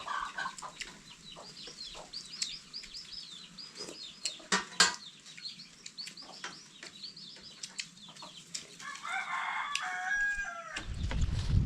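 Chickens cluck busily and a rooster crows in an outdoor farmyard, the calls overlapping at close to middle distance, ending in a low rumbling thump.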